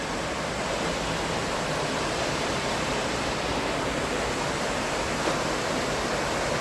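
Steady broadband rush of North Falls, a waterfall at the canyon along a rim trail, filling the whole stretch at an even, constant level with no voices.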